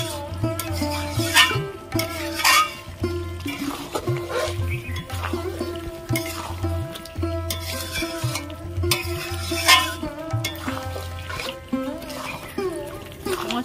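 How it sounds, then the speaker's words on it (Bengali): Ground spices, fennel powder among them, being stir-fried in a pan for a vegetable curry: a steady, continuous sizzle and scrape of stirring that runs throughout over a tonal background. "মশলা দিয়ে আমি ভালো করে কষিয়ে নিয়েছি।"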